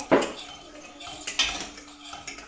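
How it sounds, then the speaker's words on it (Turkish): A spoon stirs pudding in a metal pot, giving a sharp clink followed by scraping and lighter knocks against the pan over a few seconds, close and fairly loud, with faint voices in the background. "Karıştır şimdi. Karıştır karıştır."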